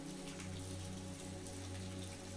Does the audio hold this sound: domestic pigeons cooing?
no